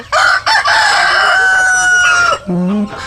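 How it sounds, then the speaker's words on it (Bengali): Cartoon chickens squawk and crow loudly at midnight in a long, strained cry that slides down in pitch, followed by a shorter cluck-like call, close and alone. "মধ্যরাত হতেই হঠাৎ করে সব মুরগিগুলি চিৎকার করতে থাকে"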